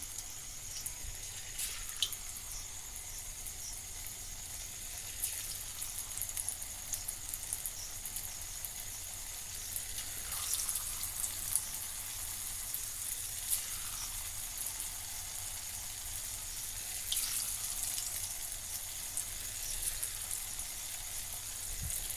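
Potato fries sizzling in hot oil over a low flame, a steady soft hiss with faint crackles and gentle bubbling throughout, fairly quiet and continuous with no talking.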